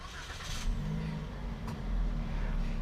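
A 2020 Toyota Yaris engine cranks briefly and catches, then settles into a steady low idle hum close by, with no talking.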